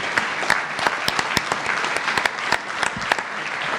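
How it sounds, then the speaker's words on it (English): Steady, dense applause from an audience honoring medical residency graduates at a hospital presentation, many hands clapping in a continuous roomful patter with no talk over it. "A round of applause, please,"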